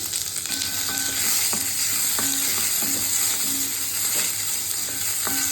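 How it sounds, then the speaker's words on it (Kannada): Curry leaves and garlic crackle in hot oil with green chillies, a bright continuous sizzle with repeated spoon scrapes and taps against the pan, close and steady. "ಸ್ವಲ್ಪ ಕರಿಬೇವು, ಸ್ವಲ್ಪ ಬೆಳ್ಳುಳ್ಳಿ ಹಾಕ್ತಾ ಇದ್ದೀನಿ."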